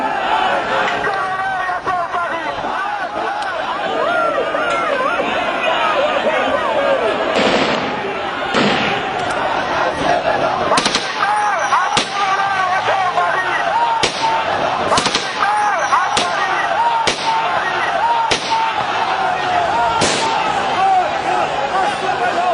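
Gunshots fired by Iraqi forces at residents in Ashraf, sharp scattered cracks over a loud crowd of shouting voices, irregular and mixed with noisy commotion throughout.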